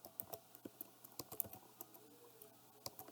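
Keys tapped on a computer keyboard while entering text into an Excel invoice: a quiet, irregular run of close clicks with short pauses, no talking.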